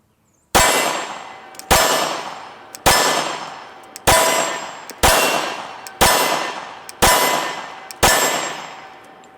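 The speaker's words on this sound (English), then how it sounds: "these are actually the very first shots out of this gun" Eight sharp pistol shots from a brand-new Glock 23 firing .40 S&W rounds, the first ever through the gun, spaced about a second apart, each loud and close with a ringing decay.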